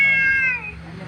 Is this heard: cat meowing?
yes